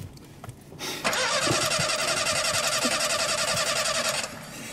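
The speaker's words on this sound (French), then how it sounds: "Démarre la voiture!" A car engine cranks with a rapid starter whir for a few seconds, loud and close, then cuts off as it catches.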